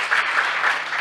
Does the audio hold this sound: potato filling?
no